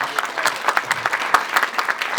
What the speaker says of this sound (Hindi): एक बार जोरदार ताली होनी चाहिए अमिताभ सिंह साहब के लिए।